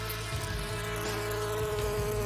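A continuous, steady buzzing of bees as a cartoon sound effect, a dense droning hum that holds at an even level throughout with no voices.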